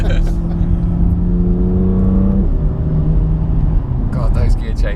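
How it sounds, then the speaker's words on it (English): A BMW M2 engine revs hard and drops pitch through quick, aggressive gear changes, heard from inside the car under steady road roar while people talk over it. "God, those gear changes are ferocious in that mode, aren't they?"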